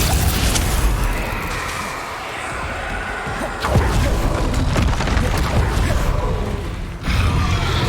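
Bombarda blasting spell detonating in Hogwarts Legacy, a loud broadband boom with crashing debris and whooshes, followed by further heavy impacts around the 3.7 and 7 second marks.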